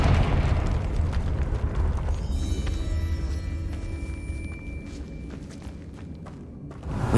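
Confringo blasting spell going off in Hogwarts Legacy, a heavy explosive boom with rumbling debris that fades into a lingering, ringing magical tail before another thud at the end.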